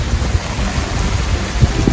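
Heavy, windy rain pours down on a garden in a loud, dense roar with low rumbling underneath, continuous throughout with no voices.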